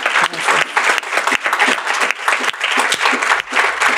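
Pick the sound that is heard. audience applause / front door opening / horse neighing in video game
audience applause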